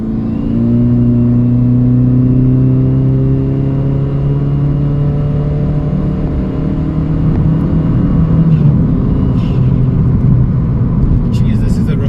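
A 2012 Chevy Spark's small engine revs hard in fourth gear, a loud, steady rising drone with strong low harmonics that climb over about nine seconds, then ease off near the end.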